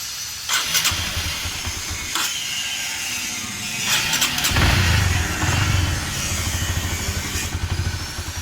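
A Honda CB150 motorcycle engine being started, with repeated starter bursts and then a rough, uneven idle that rises and falls, heard up close with no voices.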